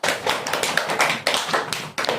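Students in a classroom clap for a classmate receiving a prize, a short run of close, sharp claps in uneven bursts with a few distinct louder strikes.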